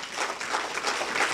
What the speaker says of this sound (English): Let's give the Lord another hand clap of worship.